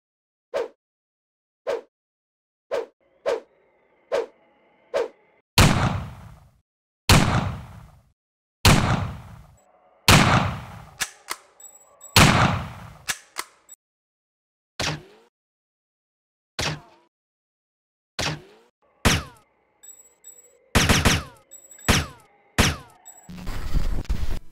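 Gunfire in the World War II shooter game Mortyr II, a long sequence of sharp single shots, mostly rifle or sniper cracks spaced a second or two apart with some quicker bursts, loud and close with echoing tails.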